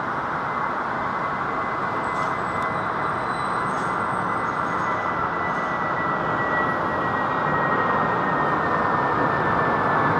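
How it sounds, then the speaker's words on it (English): A jet aircraft at London Heathrow Airport, diverted back after fumes in the cockpit, gives a loud, steady, close roar with a thin engine whine that rises slightly near the end. "So that's an aircraft that was diverted back to Heathrow because of fumes in the cockpit."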